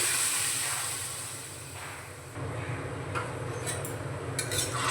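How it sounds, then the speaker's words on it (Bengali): Chickpeas, peas and boiled potatoes being stirred into a cooked spice mix in a pan, with soft scraping and clinks of a utensil over a steady hiss of cooking, close and continuous. "একটু নাড়িয়ে আমি সমস্ত কিছু একসঙ্গে মিশিয়ে নিচ্ছি"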